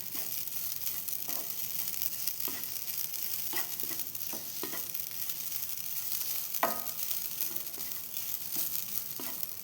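Grated coconut roasting in a pan gives a steady, soft dry sizzle, with occasional scraping and stirring clicks throughout.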